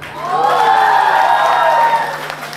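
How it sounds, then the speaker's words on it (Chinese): Audience at a stand-up comedy segment of a concert breaking into applause and cheering to welcome a performer, a loud swell of clapping with whoops that fades after about two seconds. "掌声欢迎玉州。"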